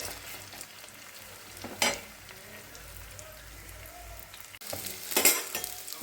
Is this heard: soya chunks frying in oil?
yes